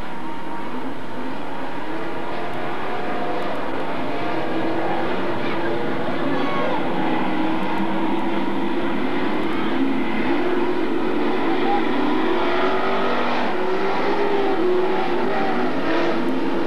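Dirt track race cars roaring around the oval at Magic City Speedway in Billings, Montana, a continuous loud engine drone with rising and falling pitch as the cars pass.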